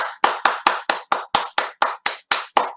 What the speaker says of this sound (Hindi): तो अपने लिए जोरदार तालियां